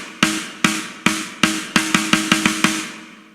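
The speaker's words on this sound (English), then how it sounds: "the DR White Ripple is the snare used from the Ultimate Drum Bundle" DR White Ripple snare drum sample from the Ultimate Drum Bundle, about a dozen sharp, loud snare hits alone, first evenly spaced, then quicker in a short roll-like run, each with a brief decay.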